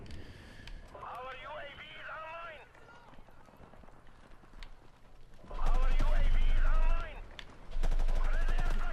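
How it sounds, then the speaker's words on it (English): Explosions and gunfire rumble from a Call of Duty Modern Warfare online match, with two loud, heavy booming bursts in the second half and someone talking throughout. "That damn explosion kind of caught me off guard."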